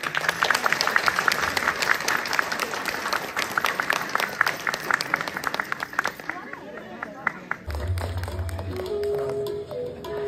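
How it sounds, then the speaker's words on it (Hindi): An indoor audience claps in steady, dense applause to welcome singers at a community reception. The clapping fades after about six seconds into low room murmur and a short low hum. "पंद्रह तालियों से स्वागत करें।"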